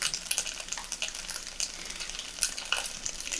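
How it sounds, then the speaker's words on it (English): Tofu stir fry sizzling in a hot pan, a steady bright crackle with scattered pops and spatters that stays fairly soft and close throughout, with no talking. "POV, you're making stir fry."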